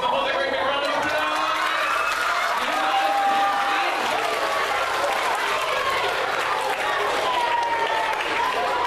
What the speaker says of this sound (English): Give the whole very big round of applause.